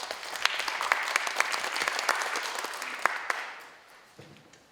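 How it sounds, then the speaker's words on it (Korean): An audience claps steadily at a public presentation in Gangneung, dense close applause welcoming a presenter that fades out over the last second. "박수로 모시겠습니다."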